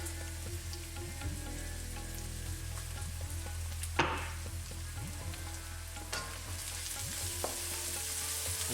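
Spices sizzle and fry in hot oil in a pan after ginger garlic paste, a steady close crackling hiss while butter chicken is cooked, with a sharp clatter of stirring around the middle.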